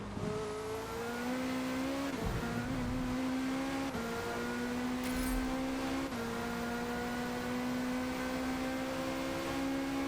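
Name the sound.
race car engine revving, from video game Forza Motorsport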